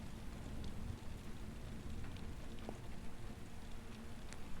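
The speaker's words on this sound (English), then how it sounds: "it's raining" Steady rain pours down in the video game Murder on Space Station 52, a dense, even hiss of drops on surfaces with a few faint brighter ticks, continuous and close throughout.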